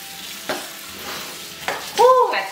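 Garlic and pepper frying in hot fat, with soft stirring scrapes and a sizzle that rises near the end, close and fairly quiet, with no talking.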